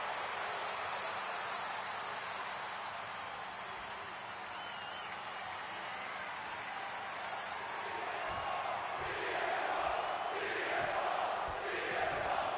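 A virtual arena crowd in the WWE 2K26 wrestling game cheers in a steady, dense roar that runs the whole time and swells slightly louder toward the end.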